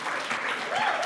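Brief applause from an audience at an open source community conference, a steady dense patter of clapping lasting about a second with a faint voice rising over it.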